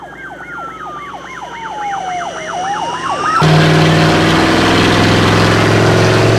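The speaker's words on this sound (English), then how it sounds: "let's hear the siren" A movie car's siren wails in rising and falling sweeps for a few seconds, then gives way to a loud, steady engine rumble and broadband noise.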